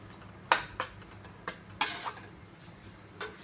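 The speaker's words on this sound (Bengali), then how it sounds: "এবারে এইটাকে আমি লো ফ্লেমে নাড়াচাড়া করতে থাকবো" Paneer curry stirred in a pan over a low flame, with a handful of sharp utensil clinks and scrapes against the pan spaced irregularly over a quiet background.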